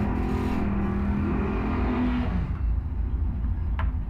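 A six-cylinder Chevy Nova drag racing down a strip at a car cruise night, its engine a steady loud drone with a rising whine as it pulls away, fading slightly toward the end.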